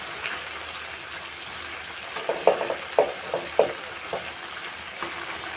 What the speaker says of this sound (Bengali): এই যে এখানে আমি শাকগুলো দিয়ে দিলাম।